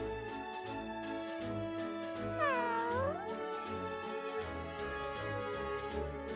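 A cat meows and caterwauls in a long, wavering, drawn-out call whose pitch rises and falls, heard over a steady tonal musical background.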